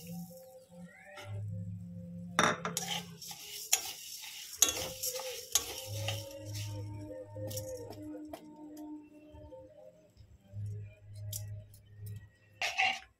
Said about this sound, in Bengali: বন্ধুরা আমি চিনির একটু ক্যারামেল করে নেব।